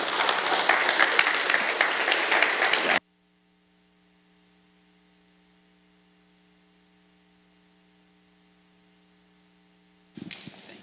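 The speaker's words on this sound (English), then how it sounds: "please give them one more round of applause" A church congregation at an Easter Sunday service claps in a loud burst of applause that stops abruptly after about three seconds. A long near-silent stretch with faint electrical hum follows, then a brief return of noise at the very end.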